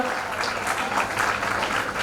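Continuous applause from a student audience welcoming a judge onto the stage at a school talk, a dense wash of clapping at steady volume throughout the short stretch.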